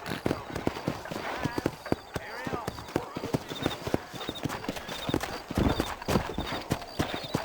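Horse hooves clip-clop steadily in the Red Dead Redemption video game as a mount sets off on a trail, the rhythmic beats running throughout alongside game music and occasional speech.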